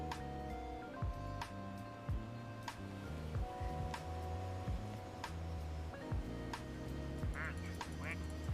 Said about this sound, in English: I like that you can make them quack.